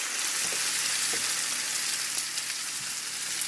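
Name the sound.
vegetable broth poured into pan of Brussels sprouts, sizzling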